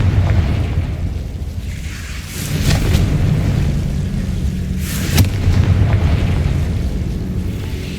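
Booming fiery blasts of the Confringo explosion spell in Hogwarts Legacy, two sharp bursts at roughly two-second intervals rising over a loud rumbling game soundscape, close and forceful.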